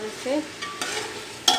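Chicken pulao spices frying and being stirred in a pan, brief scraping and soft sizzling with a sharp clink near the end, under a few spoken words.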